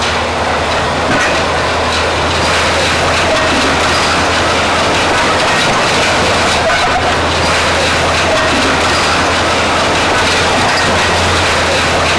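A 1914 Cleveland Railway Company streetcar pulling a power car rumbles steadily along the tracks with a constant loud roar and faint clacking of wheels, no voices.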